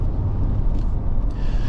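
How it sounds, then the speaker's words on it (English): The 4-cylinder engine of a 2024 Toyota Land Cruiser First Edition straining under load on the road, a steady deep heavy rumble heard from the cabin, continuous and loud with no talking. "You can hear that it's a 4-cylinder engine"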